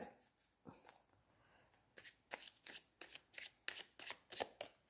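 Tarot cards are shuffled and drawn close up, quiet at first, then a fast run of crisp, evenly spaced riffling slaps in the second half.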